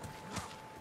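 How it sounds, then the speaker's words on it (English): Horse hooves in the video game Ghost of Tsushima, a few soft, quiet clip-clop steps at a walking pace with no other sounds. "My horse."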